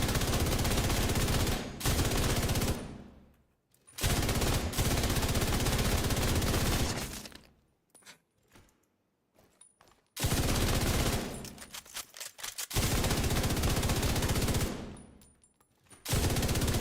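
Loud sustained bursts of automatic gunfire from The Division video game while aiming for headshots, with long rapid volleys broken by short pauses and a few scattered shots.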